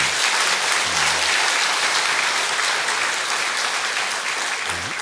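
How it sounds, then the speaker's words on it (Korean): A church congregation applauds in encouragement, dense steady clapping filling the room at full strength and continuing without pause throughout. "여러분 박수로 격려해 주시기 바랍니다."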